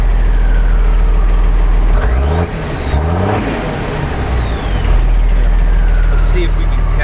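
An M35A2 military truck engine, running with its fuel control bypassed on a first startup, revs loudly on the throttle, its pitch climbing and falling in sweeping surges over a heavy low idle.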